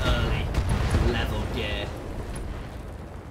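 A destroyed target explodes in a video game with a loud, rumbling blast that starts strong and slowly fades, accompanied by a few brief synthetic electronic tones.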